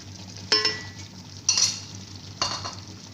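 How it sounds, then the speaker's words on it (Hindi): Almonds and cashews soaked in milk frying in a pan of white korma, with a soft continuous sizzle and three separate spoon scrapes spaced about a second apart, close and without speech. "अब मैं इसमें बादाम और काजू डाल दूँ जो मैंने दूध में मिक्स किए थे। फिर थोड़ा मैं इसको भून लूँगी।"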